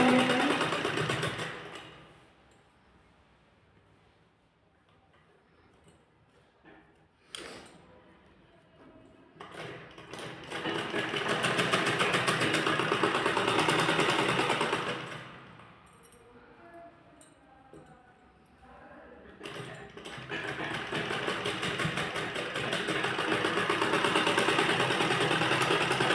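An electric sewing machine stitches a blouse in long, steady runs close by, whirring loudly for several seconds at a time, then dropping to quieter pauses before starting again.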